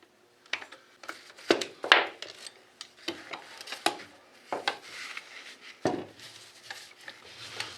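Hand guards coming off a .308 HAC-7C battle rifle, pried with the rim of a .308 case: a run of sharp metallic clicks, scrapes and taps, close and irregular, with no talk.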